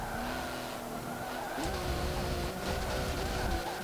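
Race car engine in the video game Forza Motorsport 7, a steady high engine drone with tonal whine holding through a corner, with some tire squeal, continuous and loud throughout.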